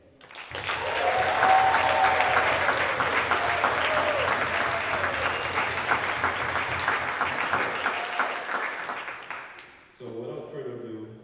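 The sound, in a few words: applause for a steel band group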